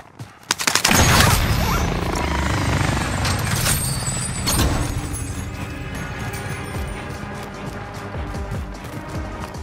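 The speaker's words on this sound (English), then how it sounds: "Hostile attack chopper carrying cash." An attack helicopter in Call of Duty Warzone roars through a loud, continuous wash of rotor and engine noise, while sharp gunfire bursts and explosive cracks hit near the start and again around midway.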